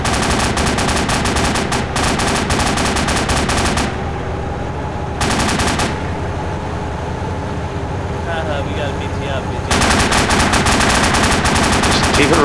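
Bursts of loud gunfire in a military video game, rapid automatic volleys at the start, a short burst midway and sustained firing at the end, with quieter engine-like rumble between.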